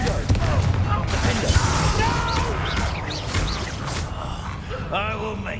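Confringo blasting spell explosions in Hogwarts Legacy combat, loud booms and crashes amid chaotic battle effects and whooshes, with voices and gasps mixed in.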